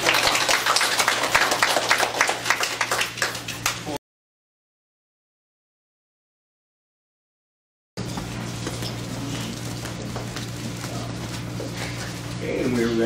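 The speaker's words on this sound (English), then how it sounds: "Let's give them an applause." Children in a classroom clap in applause for a group presentation, a dense patter of claps broken by a gap of silence and then resuming with chatter.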